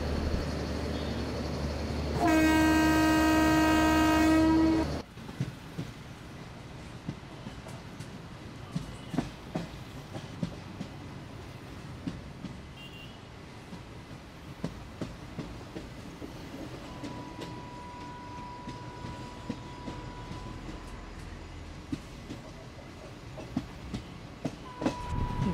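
The Kerala Sampark Kranti Express, an Indian passenger train, runs along the line slowing toward Vasai Road; a loud steady horn blast opens, then a continuous rolling rumble with rhythmic clickety-clack of wheels over rail joints, heard from the cab.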